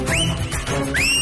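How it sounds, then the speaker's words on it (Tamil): Whistle blown twice in quick succession, each a sharp rising shrill tone, loud and close over a dense background of crowd noise or music at a political rally. "அடிட விசில் விஜய்தானே முதல்வர்"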